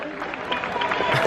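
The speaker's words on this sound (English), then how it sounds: "I think we're close to the finish line because a lot of people are cheering along" Near the finish line of the Rome half marathon, a crowd claps and cheers in a brief, busy burst of applause mixed with voices.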